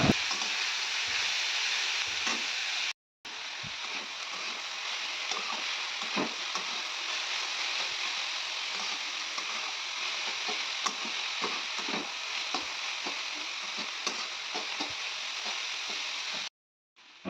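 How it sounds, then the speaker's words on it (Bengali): Boiled cabbage frying in oil with panch phoron, a continuous close sizzle with frequent spatula scrapes and taps against the pan, briefly cut silent twice. "তো এবার পাঁচফোড়ন দিয়ে এটা ভেজে নেবো"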